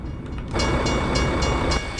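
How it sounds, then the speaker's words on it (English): A train passes in the American Truck Simulator video game, with a steady broad rumble and rhythmic clicks of the wheels that swell and continue throughout. "Is there a train coming?"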